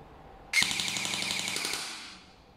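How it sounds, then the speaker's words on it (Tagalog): A Poseidon Triton CQB electric airsoft gun fires a sustained full-auto burst, a rapid, loud mechanical rattle of shots that starts abruptly and runs for about a second and a half before tapering off. "Okay, so ngayon naman sa full auto naman tayo."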